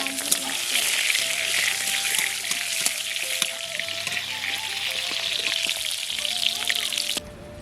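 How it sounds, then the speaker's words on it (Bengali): Potol (pointed gourd) rubbed with salt and turmeric fries in a wok, giving a steady, loud sizzle with soft stirring clinks throughout, cutting off sharply near the end. "এরপর আমি কড়াইতে ভালো করে নাড়াচাড়া করে ভেজে নেব।"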